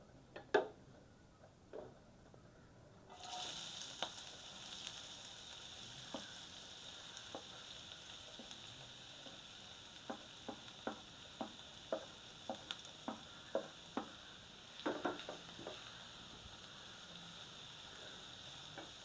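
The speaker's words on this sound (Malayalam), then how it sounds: "നമുക്കതിലേക്ക് അരിഞ്ഞു വെച്ചിരിക്കുന്ന സവാള ചേർത്ത് കൊടുക്കാം." Chopped onion drops into hot coconut oil, bursting into a strong, steady sizzle after a quiet start, with repeated sharp ticks and clacks of stirring over the continuous frying hiss.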